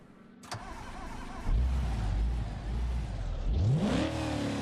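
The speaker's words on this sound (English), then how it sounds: "I think we've got two different types of exhaust in this." A V8 car with side-pipe exhausts clicks, cranks and fires up with a loud burst, then idles roughly before a rising rev near the end, all close to the listener.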